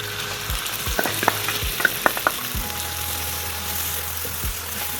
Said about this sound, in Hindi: ऑयल को अच्छी तरह से गर्म करने के बाद हम इसमें प्याज शामिल कर लेंगे